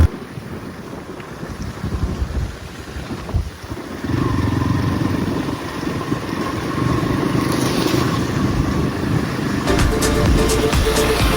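Motorbikes ridden by college friends on a road trip run with a steady engine drone under heavy wind rush on the microphone, growing louder and rougher partway through.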